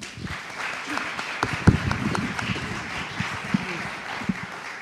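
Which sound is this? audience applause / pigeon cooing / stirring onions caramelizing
audience applause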